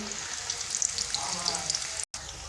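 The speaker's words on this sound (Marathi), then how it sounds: "मस्तपैकी गोल्डन ब्राऊन होईपर्यंत तळून घेऊत" Raw banana finger chips deep frying in hot oil, a steady dense crackling sizzle close by with small pops, running without a break except for a very short dropout near the end.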